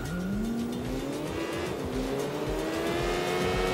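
Engines roar continuously as a classic Class P motorcycle street race gets under way in the video game Sleeping Dogs, with rising revs and faint tyre squeal, loud and steady throughout.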